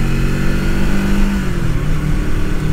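A 1989 Suzuki GS500 cafe racer motorcycle engine runs steadily and loudly throughout, its note rising and falling slightly as the rider works the throttle on a test ride.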